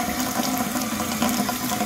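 Shower water runs from a Moen Posi-Temp valve with a faulty cartridge that won't shut off, a steady close hiss with an underlying hum and no voices.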